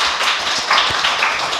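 Brief burst of audience clapping welcoming a lecturer to a university class, steady and fairly dense across the crowd with no talking over it.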